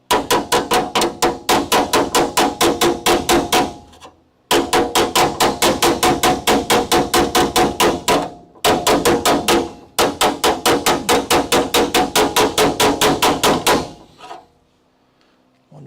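Rapid bursts of hammer blows on a truck frame rail, flattening wavy metal where a leaf spring perch sits, loud and close in four runs separated by brief pauses before falling silent.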